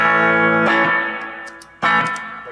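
Distorted electric guitar chords from an Epiphone ES-335 Pro through an Orange Crush 35RT amp and Strymon reverb ring out with a long reverb tail; a second strummed chord hits partway through and washes out.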